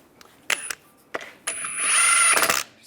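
Power tool driving wheel lug bolts tight on a Volkswagen Beetle, several short whirring bursts followed by a longer sustained run with ratcheting rattle, close and loud with no talking.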